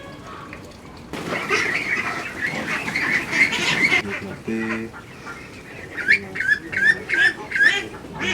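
Ducks at a duck farm in Boyolali, Central Java, quacking in a busy flock with bursts of overlapping calls, while someone talks over them.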